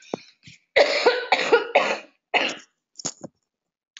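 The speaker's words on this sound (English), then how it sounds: "Excuse me 1 second, because I do need to cough" A run of harsh, loud coughs close up, several in quick succession, followed by a couple of softer throat-clearing coughs.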